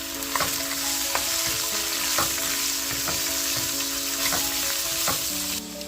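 Two chopped onions sauté in a pan for a chicken curry, giving a steady, loud sizzle with occasional crackles and stirring clinks throughout, with no talking.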